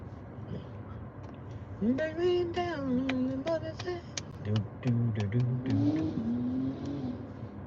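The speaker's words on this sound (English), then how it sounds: "Sound like some kind of moped" A moped engine passing by, its revving whine rising and shifting in pitch for a couple of seconds before fading back under surrounding noise and voices.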